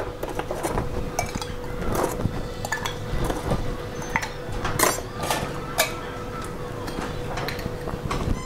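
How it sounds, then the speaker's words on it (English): Ice cubes clinking and rattling against glass and metal bar tools while a Vesper martini is built, with irregular bright clinks and a few louder knocks over about eight seconds of steady close background. "put some more ice."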